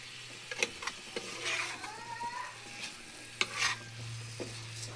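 Egg bhuna stirred in a frying pan, a spatula scraping in irregular strokes over a soft continuous sizzle, close and quiet with a faint steady hum underneath.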